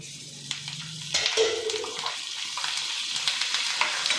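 Green chillies, cashews and curry leaves fry in a pan for a Kannada breakfast pongal, giving a steady close sizzle with brief stirring scrapes and a soft clatter as ingredients go in.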